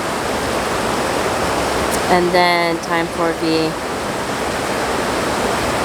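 Water spilling over a small spillway on a river makes a loud, steady rushing wash close by. Someone speaks briefly partway through over the flow.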